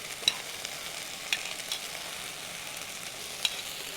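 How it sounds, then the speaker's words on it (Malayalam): Ivy gourd and carrot sauté in a pan with a faint, steady sizzle, broken by a few light clicks of a utensil against the pan. "കോവയ്ക്ക ശല സമയം ഒന്ന് വഴണ്ട് വരണം."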